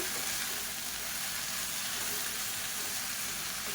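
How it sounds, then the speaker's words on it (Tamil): Mint and coriander leaves sautéing in a pan for a chutney side dish, giving a steady, even sizzle and crackle throughout with no talking. "இப்போ இந்த இலை சுருங்குற அளவுக்கு மட்டும் வதக்கினா போதும்"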